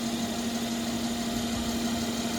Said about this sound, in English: you look underneath while the engine's running